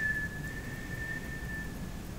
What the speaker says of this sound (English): an airy, noisy whistle